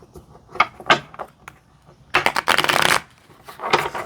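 A tarot card deck is shuffled by hand, with a few light riffling flicks followed by a longer, dense burst of cards rippling together, close and clear with no talking.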